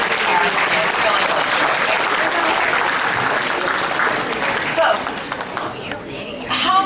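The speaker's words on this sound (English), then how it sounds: "a big hand of applause for the coaches" A crowd at a MathCounts state competition gives loud, sustained applause for the coaches, with dense clapping and cheering. The noise thins out near the end, leaving scattered claps and voices.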